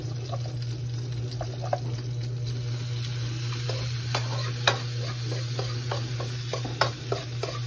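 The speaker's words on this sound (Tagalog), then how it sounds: "Ang saging naluto, matosta ng kaunti." Banana frying in a pan, a continuous sizzle with scattered pops and crackles and occasional stirring scrapes over a steady low hum, no one speaking.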